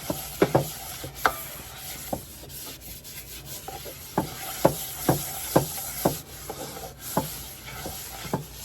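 A soft-bristle brush scrubs the bottom of a kitchen pan in short, uneven strokes, making scratchy rubbing bursts and light knocks at close range without any talking.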